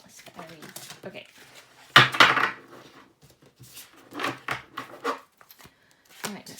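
Slippery tarot cards are shuffled by hand. Soft riffling and slapping sounds come in irregular bursts, with one louder cluster of flicks near the middle and quieter card noise between.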